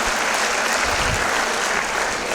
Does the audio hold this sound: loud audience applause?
yes